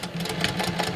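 A sewing machine back stitches the lining of a letterman jacket, a steady close whirring hum with a rapid mechanical chatter of the needle running throughout.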